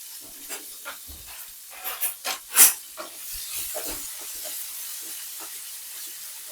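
Hot cooking oil hisses and sizzles in a pan while chicken curry is prepared, with a run of sharp crackling spits peaking midway before settling into a steady, softer hiss.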